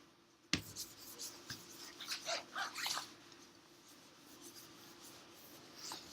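A board being erased during a university data science lecture on neural networks: one sharp knock, then a run of soft rubbing swipes, moderately close, followed by quiet room tone.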